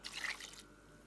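Water poured from a cup into a pot of spinach and lamb curry (palak gosht), a short bright splash that lasts about half a second and then stops, leaving near silence.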